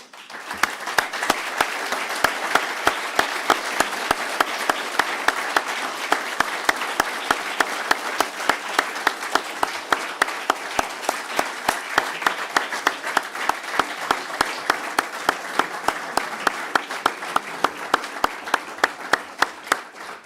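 Graduation ceremony audience of graduates applauding their families, a long sustained round of dense clapping with crisp individual claps, even and moderately loud from start to finish.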